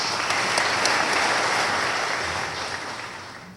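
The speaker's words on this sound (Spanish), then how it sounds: "con un fuerte y caluroso voto de aplausos" Warm audience applause at a legal conference on flagrancy procedures: dense, steady clapping from a crowd that eases off slightly toward the end, with no talking.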